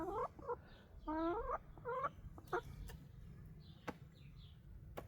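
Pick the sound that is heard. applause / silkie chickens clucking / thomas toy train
silkie chickens clucking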